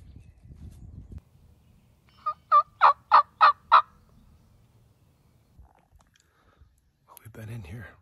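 Wild turkeys gobbling in spring woods during a Wisconsin hunt, a single clear burst of five rapid gobble pulses in the middle of a quiet stretch, moderately near, with faint low rustling before it and a brief murmur after.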